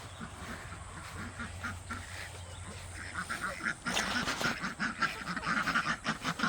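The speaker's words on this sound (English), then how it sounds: "What's up, my ducky friends? They are so noisy. So noisy." Ducks in a garden quack and honk noisily in a busy, overlapping chorus that grows louder and denser partway through, with a low background hum early on.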